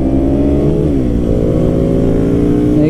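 A 2017 KTM Duke 125 with its stock exhaust accelerates hard, a loud, close, continuous engine drone whose pitch climbs through the gears with brief dips at the shifts.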